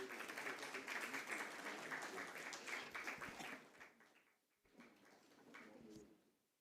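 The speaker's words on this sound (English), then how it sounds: "Ladies and gentlemen, with a huge round of applause." An audience at a company stock listing ceremony claps in sustained, dense applause that fades, then swells again briefly before dying away.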